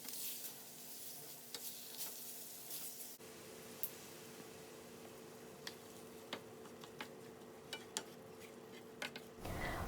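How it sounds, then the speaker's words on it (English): Italian sausage browning in a pan, a steady close sizzle with a faint hum beneath and occasional sharp ticks and scrapes, growing fuller after a few seconds and stopping abruptly near the end. "I'm going to put it to the side and brown my Italian sausage"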